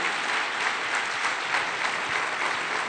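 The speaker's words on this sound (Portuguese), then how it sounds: "Se vira para o teu irmão, aplauda ele assim, ó." Church congregation members turn and applaud one another during a sermon, producing a sustained, even wash of many hands clapping at moderate volume.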